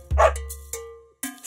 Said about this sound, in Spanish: Había un granjero que tenía un perro y se llamaba Bingo.